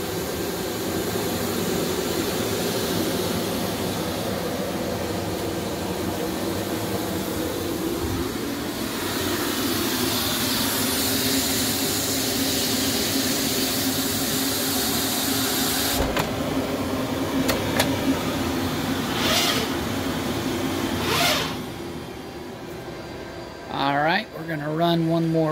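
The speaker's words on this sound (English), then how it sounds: "You can hear the vacuum fire up. It's now doing a under stencil clean." A DEK 03i stencil printer's vacuum runs during an under-stencil clean, a steady loud whooshing drone that holds for most of the stretch, broken by brief clicks and mechanical shifts near the end, with someone speaking over it.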